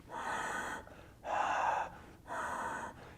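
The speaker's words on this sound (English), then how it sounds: "I make this sound where I sort of just push the air into the back of my sinuses a little bit" Ujjayi pranayama breathing with the mouth closed: three long, breathy whispering breaths pushed toward the back of the sinuses, each one to two seconds long and separated by short pauses. The sound is close and soft, with no talking.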